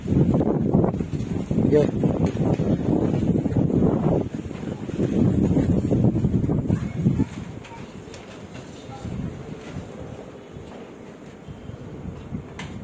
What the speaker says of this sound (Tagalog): Pakalakas ng hangin.